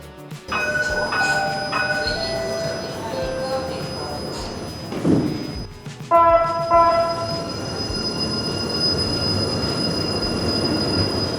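A light rail train rumbles into a station on Toronto's Finch West LRT and slows to a stop, its wheels squealing in long metallic tones and brakes hissing, with station noise and faint voices around.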